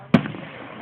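A single firework bursts with a sharp nearby bang, then a brief fading rumble and tail, with no voices.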